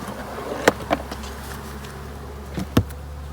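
Honey bees from an installed package buzz steadily inside a hive, a constant near drone with a few sharp knocks and taps from the hive being handled.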